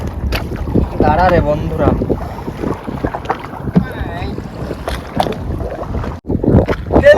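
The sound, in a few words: strong storm wind on the Bidyadhari river, from a boat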